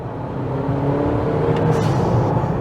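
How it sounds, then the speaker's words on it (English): A tuned Honda CR-V 2WD Touring with a 1.5 turbo engine pulls hard, a steady, loud, rising engine drone with a light whoosh, and no voices. "You just don't expect to hear a noise like that coming from a CR-V."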